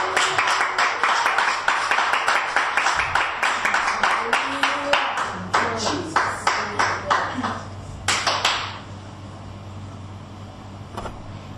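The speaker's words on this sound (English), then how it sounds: "Clap for Jesus, somebody." A church congregation claps in a steady rhythmic beat, roughly two claps per second, for about eight seconds, then the clapping trails off into a quieter room with scattered sounds.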